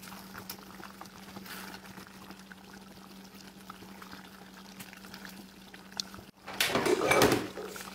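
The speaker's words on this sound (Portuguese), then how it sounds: "Eu vou deixar aqui cozinhando, naquela refogada e cozinhando o nosso franguinho pra ficar bem cozido e bem molinho." Diced chicken with tomato braising without added water in a pot, giving a low steady bubbling and sizzle for several seconds, then a louder burst of stirring or lid clatter near the end.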